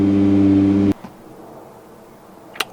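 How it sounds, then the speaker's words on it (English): A car engine holds a steady, high, droning rev that cuts off abruptly about a second in. Faint rustling and a sharp click follow, with no speech. "we can now add revving issue to that list of things"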